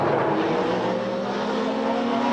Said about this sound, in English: Now to Noble, and we're in car with Cleland, and you can hear the tyre problem.